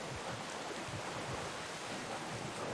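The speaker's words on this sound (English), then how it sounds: "Look at those freaking huge waves coming in on the island." Huge ocean waves crash on an island shore in the video game Atlas, a faint, steady, hissing wash of surf with soft low rumbles underneath and no talking.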